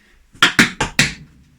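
Four sharp, percussive taps from tap shoes in quick succession, close and crisp, with no voices.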